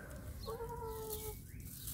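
Hens in a backyard coop make a few faint drawn-out clucks and calls over quiet outdoor background, no talk.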